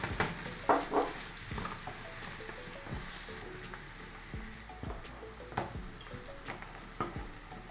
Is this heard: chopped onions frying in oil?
yes